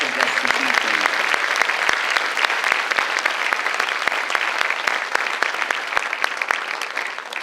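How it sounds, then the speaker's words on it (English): Sustained applause from a large crowd at a high school scholarship night, dense steady clapping that carries on evenly without a break, with a brief murmur of voices near the start. "A nice round of applause for all of our special guests this evening."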